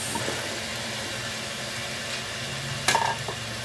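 Potatoes hit a hot pan of pork in soy sauce, giving a steady broadband sizzle throughout with a brief louder burst near the end as ingredients are stirred; no voices.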